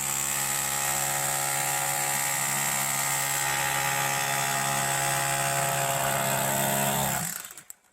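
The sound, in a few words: hammer drill excavating rock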